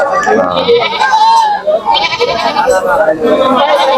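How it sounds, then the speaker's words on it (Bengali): Goats bleat repeatedly at a busy roadside cattle market in Deohata, Tangail. The calls are loud and close, mixed with constant talking from people nearby. "ছাগল কটা নিয়ে আসছিলেন?"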